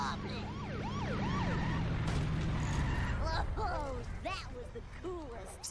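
A police car siren in a video game sounds throughout, with repeated rising and falling wails over engine and game noise, while a commentator talks over it.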